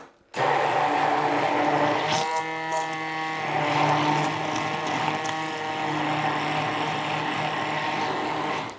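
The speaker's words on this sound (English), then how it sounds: "you can bring your immersion blender near the top from underneath" An immersion blender frothing hot chocolate runs as a loud, steady electric whir with a tonal buzz, starting abruptly after a moment of quiet and holding close and continuous to the end.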